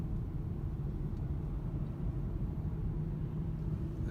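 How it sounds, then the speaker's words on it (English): Steady low rumble of a car rolling along the road into French Park near Medicine Lake, constant engine and tire drone throughout with no talking. "So driving into French Park looks like this."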